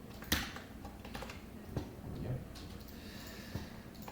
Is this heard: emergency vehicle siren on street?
no